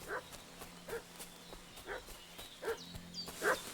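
A dog in the medieval video game Kingdom Come Deliverance 2 barks repeatedly at a moderate distance, short regular barks roughly every second over a low ambient background.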